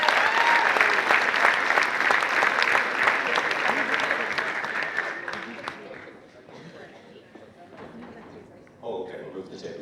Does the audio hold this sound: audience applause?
yes